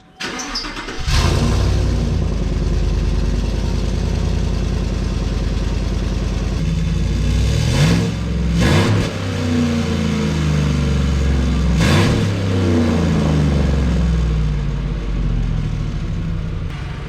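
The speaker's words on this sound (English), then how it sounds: "That thing sounds pissed off, is what it sounds like." Pickup truck with its exhaust resonator deleted, starting up and then idling loud and deep, with several sharp throttle blips that rise and fall over the steady rumble. No voices.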